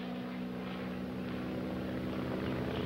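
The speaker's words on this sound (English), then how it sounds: "it's noisy airplanes" Propeller airplanes from a 1941 film soundtrack droning overhead as a steady, loud, continuous engine hum with a strong low tone, no voices heard.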